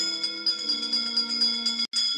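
A bell rings in the Roblox recreation of the Haunted Mansion, a steady resonant chiming tone with repeated strikes, loud and clear, briefly cutting out near the end before resuming.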